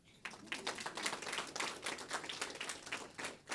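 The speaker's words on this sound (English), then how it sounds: "So let's give her a round of applause for that." Audience applause in a small venue, a steady patter of many hands clapping throughout after a brief quiet start, moderately loud and without talk.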